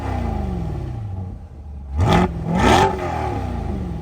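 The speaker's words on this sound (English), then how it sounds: "I love those quad exhausts, which I think sound phenomenal." A 2022 Chevrolet Corvette Stingray 3LT with quad exhaust idles with a low rumble, then blips the throttle twice in quick succession, each rev rising sharply and falling back, loud and close with no talking.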